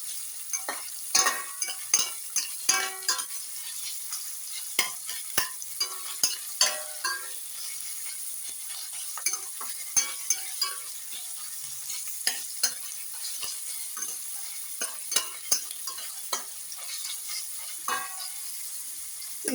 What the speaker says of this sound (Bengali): পেঁয়াজগুলো দিয়ে আমি মিনিট খানেক একটু নাড়াচাড়া করে ভেজে নেব।